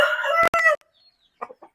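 A year-old Pachakaki cross rooster crows loudly and close at the start, a short harsh call broken by a brief gap, followed by a couple of soft clucks after a pause.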